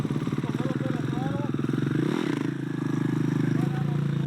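A dirt bike engine runs steadily with a low throbbing idle, rising briefly in pitch as the throttle is blipped with the clutch pulled in, then settling back; a voice talks over it throughout.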